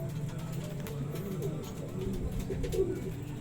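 A racing pigeon arriving back at the loft after a derby lap gives soft, low cooing close by over steady background noise, with a voice murmuring faintly.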